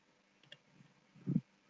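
A few soft, quiet keystrokes on a computer keyboard while a word is typed, ending in a slightly louder clack in an otherwise silent room.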